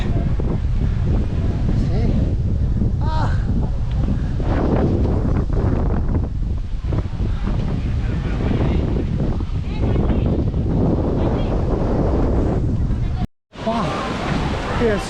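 Strong wind buffets the microphone on Sigiriya lion rock in Sri Lanka, a loud, continuous roaring rumble with gusty surges, briefly cutting out near the end.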